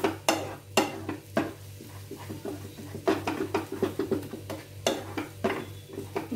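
Egg halwa made with semolina being stirred over a low flame, with repeated scraping and clinking strokes of a spoon against the pan at an irregular rhythm, close and clear, with a soft steady hum underneath.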